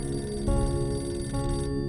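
A telephone rings repeatedly in a home in a Pakistani TV drama, a steady electronic ring in two bursts, loud and alone with no voices.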